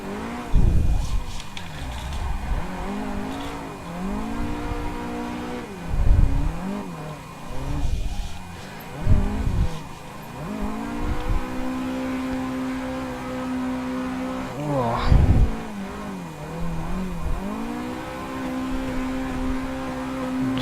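A simulated car engine revs hard and repeatedly bounces off the rev limiter while drifting in Assetto Corsa, with rising and falling engine tones and recurring bursts of tyre noise, loud and continuous.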